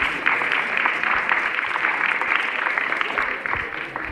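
Moderately quiet clapping from the audience at a youth debate event, a scattered patter of hands that continues evenly before easing slightly at the end.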